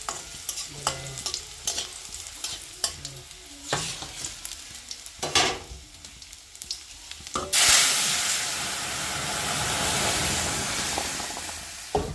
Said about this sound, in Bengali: আজকের ডালটা রসুন সম্বাদ দিয়ে করব রসুন শুকনো লঙ্কা হচ্ছে কালো জিরে